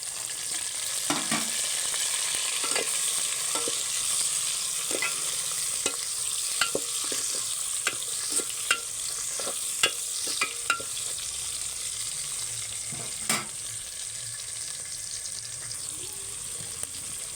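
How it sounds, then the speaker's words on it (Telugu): Onions and tomatoes fry in a pan for chicken biryani, a continuous sizzle broken by repeated scraping and clicking of a spatula against the pan, with no voices. "ఇలా బ్రౌన్ కలర్ రావాలి ఫ్రెండ్స్ ఉల్లిపాయలు తర్వాత టమాటాలు వేసుకుందాం"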